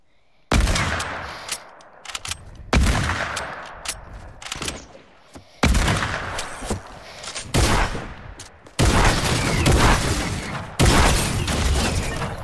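Shotgun blasts in a video game ring out as loud, sharp bursts at irregular intervals, each followed by a short decaying tail and quieter clatter between shots.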